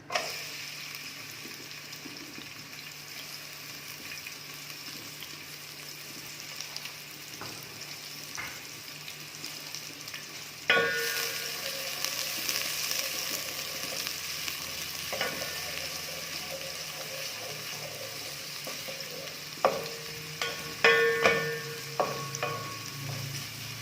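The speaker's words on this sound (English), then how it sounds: "And you're going to fry your onions until they're golden brown." Onions fry in a pan for a Kenyan bean stew, giving a steady close sizzle with occasional stirring clatter and sharper spatters, a louder burst of sizzling joining partway through.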